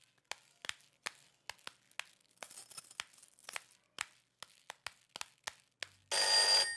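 A telephone rings in a hotel room, a string of sharp, irregularly spaced bursts close by that ends in a louder wash of noise.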